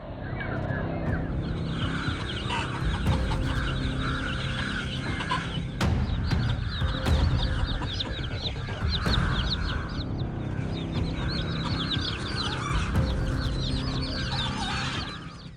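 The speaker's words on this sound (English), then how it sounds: "The hens frantically launch continuous pecking and kicking attacks at the intruder." Hens clucking and squawking excitedly while attacking an intruder, a dense continuous chorus of agitated fowl calls with a few sharp louder bursts over steady background noise.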